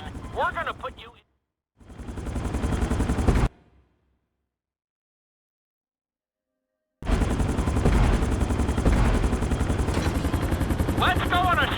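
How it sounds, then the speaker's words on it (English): A helicopter in Grand Theft Auto V gives a loud, steady rotor and engine roar with dense game noise. It cuts out briefly into near silence, then returns just as strong. "Let's go on a short tour of the city, and we'll see how well you handle the chopper."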